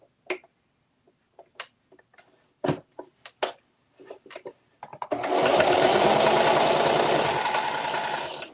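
Sewing machine stitching a baby bib, starting after scattered clicks and handling taps, then running steadily and loudly for several seconds.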